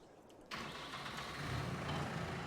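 A New Holland T4 open-top tractor engine in Farming Simulator 22 cranks and catches after a quiet moment, then settles into a steady, fairly loud idle with a slight rise in pitch.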